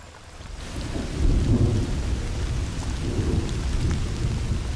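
Steady rain with low rolling thunder at an outdoor archaeological excavation site, a continuous loud wash that swells with a heavier rumble partway through, no voices.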